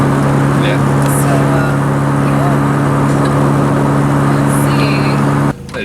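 A Chevy Cruze motor drones steadily from inside the cabin while accelerating, a constant low hum that cuts off abruptly near the end, with faint voices nearby.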